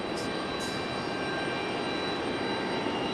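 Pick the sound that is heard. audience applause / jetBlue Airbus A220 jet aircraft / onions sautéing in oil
jetBlue Airbus A220 jet aircraft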